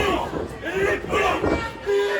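Crowd roar from a wrestling video game arena, a steady swelling cheer with shouts rising and falling in waves across the short stretch.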